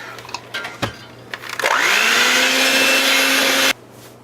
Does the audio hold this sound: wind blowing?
no